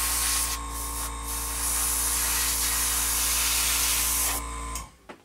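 Airbrush or spray gun hisses steadily while paint is applied to a model girder, a continuous close broadband spray with brief pauses before cutting off near the end.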